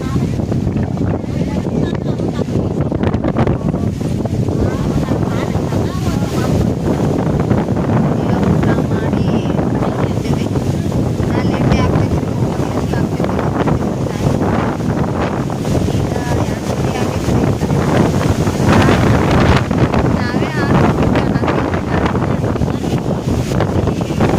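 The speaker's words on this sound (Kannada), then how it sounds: "ಫುಲ್ ಗಾಳಿ ಐತ್ರಿ ಇಲ್ಲಿ" Strong wind buffets a microphone outdoors, producing a loud, steady roar of rumbling gusts that continues without a break.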